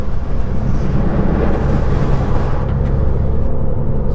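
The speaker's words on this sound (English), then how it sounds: "It's just the wind noise with the windows open that makes the difference." Steady loud roar of a Ford Fiesta ST Mk8 with a Scorpion exhaust cruising at speed in sports mode, heavy wind rushing through open windows, constant and close with no talking.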